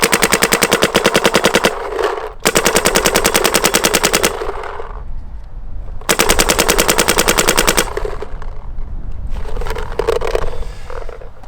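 An Immortal Prime XTS paintball marker with a C5 engine fires rapid full-auto bursts of sharp, evenly spaced pops, loud and close, with three long strings separated by brief pauses and a fainter final burst.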